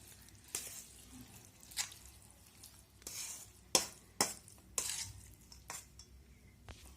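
Curd rice being stirred with milk for daddojanam, quiet wet scraping of a spoon in a vessel with several sharper clinks and squelches at uneven intervals.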